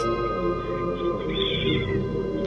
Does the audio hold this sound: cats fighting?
yes